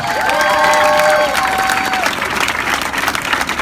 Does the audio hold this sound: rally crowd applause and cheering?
yes